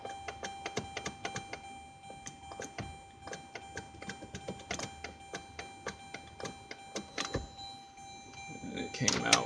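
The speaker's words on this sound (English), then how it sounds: "You can hear the interlock gear selector working" The interlock mechanism of a Chevy gear selector clicks and ticks in an irregular rhythm as the selector is worked. The clicks are sharp but quiet, and some are spaced closer together than others.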